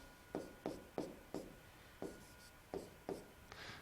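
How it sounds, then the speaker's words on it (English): Pen strokes on paper as a Riemann sum is written out by hand, seven or eight short scratchy strokes in a steady rhythm, close and quiet, with no talking. "Now I write down my Riemann sum."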